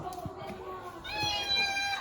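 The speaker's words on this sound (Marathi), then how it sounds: "पिल्लं काढलेत आमच्या मांजरीने" A domestic cat meows beside her newborn kittens, with drawn-out mewing calls rising clearly in the second half, close by, while people talk nearby.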